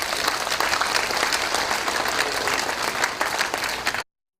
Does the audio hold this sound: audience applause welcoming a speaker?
yes